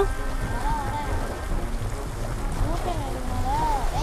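A boat cruises across the water in the Blox Fruits video game, giving off a steady rushing wash with a faint wavering whine on top. Voices talk over it throughout.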